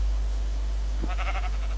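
A single sheep in Minecraft bleats once, a short wavering cry near the end over a steady low hum, with no talking.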